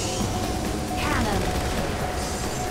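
Cannon fire in a PS3 racing game: a dense, continuous barrage of booming blasts that merges into a loud, rumbling roar throughout.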